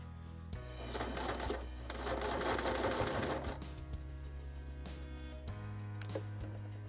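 A sewing machine runs steadily while stitching a cloth diaper pail liner, a close, even mechanical whir that speeds up briefly in the middle, then settles back to a slower hum with faint clicks.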